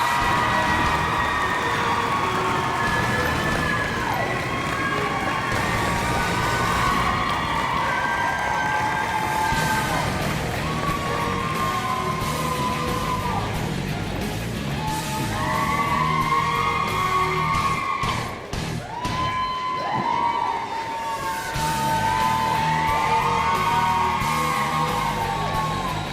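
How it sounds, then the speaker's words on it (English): Audience in a school hall at a letter-of-intent signing ceremony, cheering, yelling and whooping with applause, a sustained crowd roar that dips briefly partway through before swelling again. "Keep the applause going"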